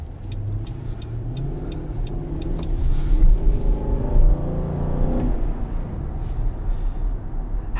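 2021 Nissan Armada SL engine accelerating under load, a loud, rising drone with heavy intake noise heard from inside the cabin, continuous over several seconds with faint ticking early on.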